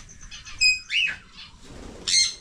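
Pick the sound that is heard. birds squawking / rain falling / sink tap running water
birds squawking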